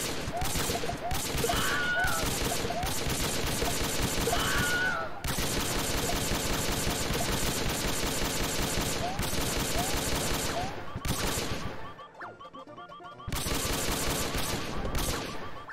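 Video game gunfire in a prison level, dense rapid bursts of automatic shots continuing almost without pause, with a brief quiet gap near the end, loud and close.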